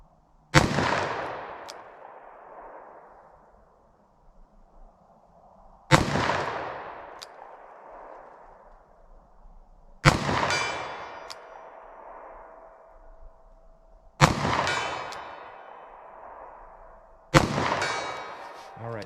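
A Taurus 856 3-inch .38 Special revolver fires five spaced shots, each a loud, close crack followed by a long echoing decay outdoors.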